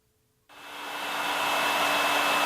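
A hairdryer switches on abruptly after a brief silence and runs as a steady, loud whooshing blow with a faint constant whine, used to float a ball in its airstream.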